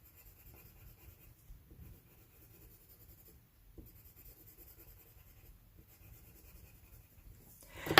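Watercolor pencils scratch across cardstock in close, quiet strokes of soft continuous scraping with brief pauses between passes, ending in a louder rustle.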